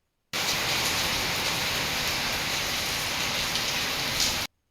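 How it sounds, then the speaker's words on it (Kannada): Heavy rain pouring in Mysore, a dense, even hiss of downpour on surfaces that starts abruptly, holds steady at moderate loudness and cuts off at the end. "ಇವತ್ತು ಮೈಸೂರಲ್ಲಿ ತುಂಬಾ ಮಳೆ ಬರ್ತಾ ಇದೆ"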